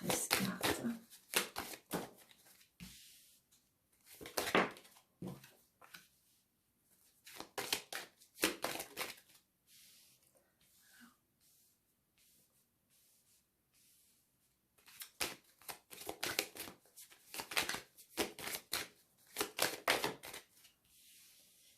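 Tarot cards are shuffled by hand in repeated bursts of crisp riffling and flicking, close and quiet, with a silent pause in the middle before the shuffling resumes.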